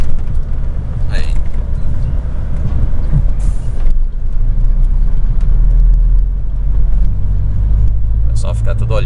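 A large truck rolls slowly over speed bumps on a town road in Amargosa, Bahia, its engine rumbling steadily with a couple of heavy thumps and a hiss like an air brake, and people talk over it.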